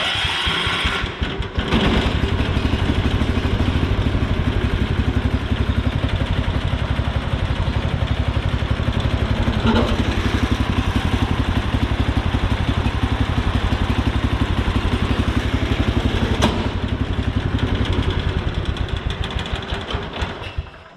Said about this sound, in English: I'll go ahead and fire it up and let you listen to it run